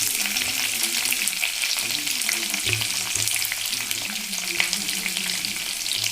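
Curry leaves, onion and green chili sautéing in a pan for black chickpea sundal, a steady close sizzle and fry with occasional stirring scrapes throughout, no voices.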